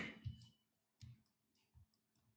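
Computer mouse clicks while working in 3ds Max architectural design software, a handful of close, quiet, crisp clicks spaced irregularly apart with near silence between them.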